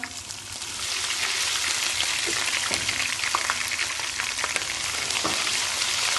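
Ginger garlic paste frying with browned onions for haleem, producing a loud, dense, continuous crackling sizzle that swells after the first second and holds steady, with scattered spatters and stirring.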